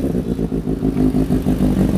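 A Kawasaki Z800 motorcycle with an aftermarket exhaust runs at a dealer lot, its engine rumbling loud and near with a pulsing, uneven throttle as it revs, no voices over it.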